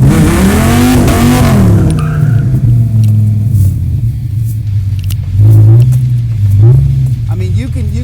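A modified Dodge Viper of about 600 horsepower revs hard and spins its tires, a loud deep engine roar surging and falling with tire noise, heard up close from the car.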